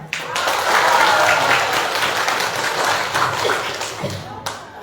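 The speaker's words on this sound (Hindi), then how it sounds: "तो बड़ी सी तालियां हो जाए." Dense applause from an audience at a prize-giving party in a Buddhist monastery hall, loud and continuous for several seconds with some thumps and taps mixed in, fading slightly toward the end.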